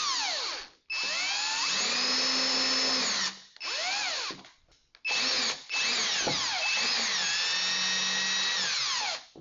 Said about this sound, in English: Then drive your screw in.